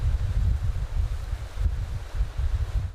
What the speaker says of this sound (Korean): 거센 파도를 일으키는 강한 바람